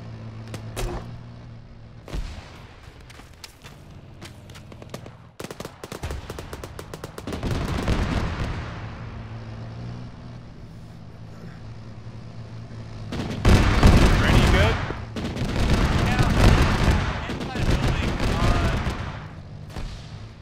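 A video game tank fight with scattered sharp gunfire cracks early on, then two heavy, loud bursts of tank cannon fire later, alongside a low engine hum. Voices talk at times.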